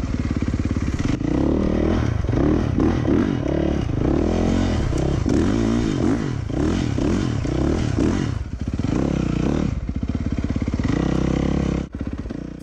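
A Yamaha YZ450F dirt bike with new plastics being ridden hard, its loud single-cylinder engine revving and dropping in rapid repeated surges, with clattering through the ride and a brief cut near the end.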